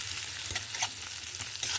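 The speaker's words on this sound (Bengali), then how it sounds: "2 মিনিট ধরে পেঁয়াজটাকে আমি ভালো করে ভেজে নেব।" Onions with green chillies frying in a pan give a steady, close sizzle and crackle with a few faint stirring scrapes, and no voices.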